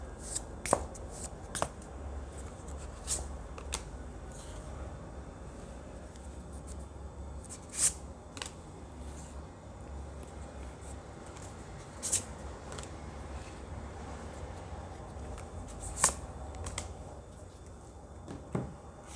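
Tarot cards being shuffled alone at close range, a steady papery riffle with sharper card snaps at irregular intervals over about twenty seconds, no talking.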